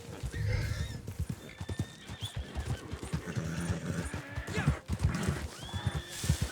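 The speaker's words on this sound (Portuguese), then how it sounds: "eu vou pegar esse cavalinho aqui, ó. Que é um Paint Horse americano." An American Paint Horse in the Red Dead Online video game gallops with rapid rhythmic hoofbeats, snorting and whinnying, heard close and loud.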